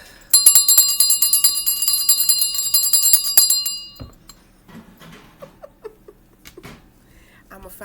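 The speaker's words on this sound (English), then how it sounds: "I'm gonna find out what that bell means." A bell rings in rapid, bright repeated strikes for about four seconds, loud and clear, then stops; afterward faint voices and small clinks continue quietly in the background.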